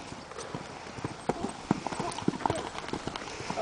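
Horse hooves clip-clop on a small jumping course, a quick irregular run of close, crisp hoof strikes with people talking over them.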